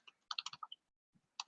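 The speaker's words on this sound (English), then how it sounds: "I'm just typing something now." Quick bursts of keystrokes on a computer keyboard, a short run of clicks, a pause, then a few more taps, close and quiet.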